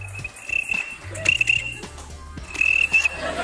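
A man imitates a cricket with his voice, producing high, thin, repeated chirping trills close to the listener over a low background hum and faint scattered noises.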